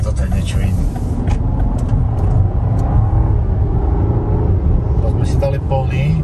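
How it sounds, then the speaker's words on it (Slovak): A Rolls-Royce Cullinan SUV accelerates at full throttle, its deep, steady engine rumble filling the cabin as people talk over it. "Vidíte, jak to zrýchluje pod plným plynom."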